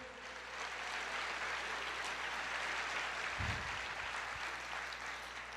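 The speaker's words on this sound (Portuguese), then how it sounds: "Você pode aplaudir o Senhor" A church congregation applauds the Lord in a steady, soft, distant wash of clapping that continues evenly throughout, with a low hum beneath.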